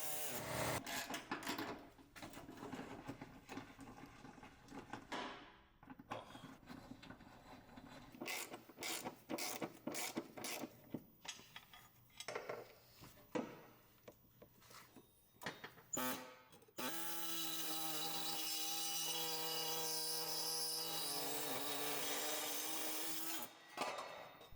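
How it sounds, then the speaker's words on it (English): Cutting into the metal driveshaft carrier frame of a W177 Mercedes-Benz A35, with uneven bursts of grinding and clattering tool noise, brief pauses, then a steady loud whining cut near the end. "Make a cut on the side of the carrier frame."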